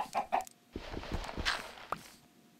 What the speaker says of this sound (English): this chicken tried to escape.